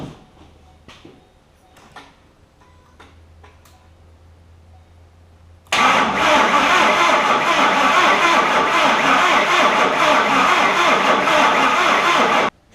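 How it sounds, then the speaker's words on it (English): A rebuilt Ford 5.4 3-valve engine in a Ford Expedition cranks on a start attempt, a sudden loud, steady rumbling churn that starts after a few quiet clicks and handling noises and runs for several seconds. "I'm going to prime the fuel system a few times, and then we're going to see if this thing will crank"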